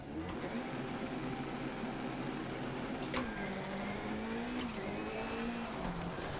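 A rally car in a racing video game revs and drives off with a steady, droning engine note that shifts pitch through gear changes, with faint tire noise and a sharp click partway through, heard alone at a moderate distance.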